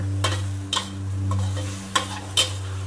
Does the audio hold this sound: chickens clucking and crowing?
no